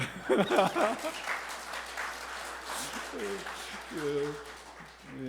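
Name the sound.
audience applause in church service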